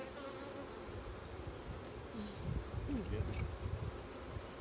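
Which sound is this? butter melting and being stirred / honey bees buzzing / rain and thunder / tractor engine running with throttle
honey bees buzzing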